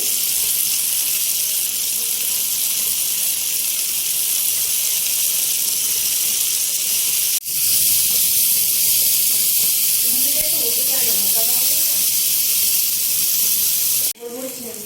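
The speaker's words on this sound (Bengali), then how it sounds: "উপর থেকে আমি হালকা করে সাদা তেল দিয়ে দেবো" Oil sizzling on a hot tawa under prawn kebabs: a steady, bright frying hiss runs throughout, briefly cut by a sharp pop or clatter, with faint voice-like sounds underneath.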